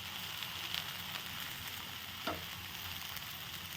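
A paratha, a vegetable-packed flatbread, sizzles steadily in oil on a pan after being flipped, a soft continuous frying hiss with one brief scrape partway through, fairly quiet and without any talking.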